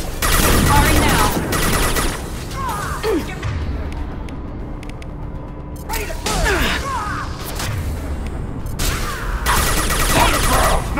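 Gunfire in the video game Mass Effect 2 Legendary Edition comes as bursts of rapid automatic shots mixed with whooshes and impacts, loud and dense, easing off midway before firing picks up again.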